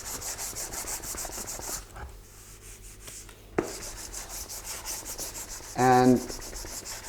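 Filler on primer is sanded by hand with sandpaper in quick, close, repetitive rubbing strokes. There is a brief pause partway through, and a voice says a single word.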